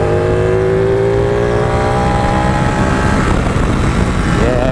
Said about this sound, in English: Yeah, you can't beat the sound of a Ducati twin, can you?